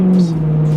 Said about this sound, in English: It's just, oh god, this engine with an exhaust, it's mental, man. It just sounds so good.